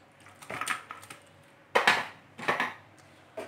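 Chicken pieces dropped into a bowl for marinating: several soft, close clatters and thumps in irregular bursts, with brief quiet gaps between.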